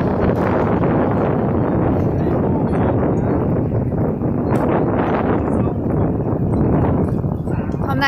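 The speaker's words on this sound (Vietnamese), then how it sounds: "Hôm nay là ngày gió mạnh nhất ha." Strong wind at Lake Harriet buffeting the microphone in loud, continuous rumbling gusts, with waves churning beneath and little let-up over several seconds.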